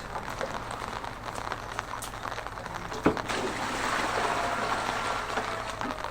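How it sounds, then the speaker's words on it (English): Water steadily splashes and trickles while a silkie chicken is rinsed in fresh water, a continuous wet patter with one brief clunk partway through. "We'd normally now rinse it out"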